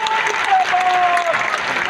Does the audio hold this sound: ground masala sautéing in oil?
no